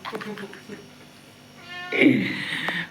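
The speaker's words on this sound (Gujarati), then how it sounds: "અને મીંદડી બેન આવી આ મેંદડી છે" A house cat in a home meows once, a clear, drawn-out call at close range toward the end, after quieter household sounds.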